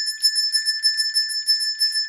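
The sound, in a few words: ringing bell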